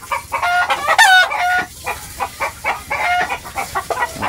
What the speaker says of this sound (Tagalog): Putak-putak ang manok